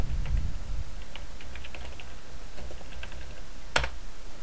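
Keys clatter on a computer keyboard as a command is typed, a steady run of light, close clicks over a constant low hum, ending with one firmer keystroke.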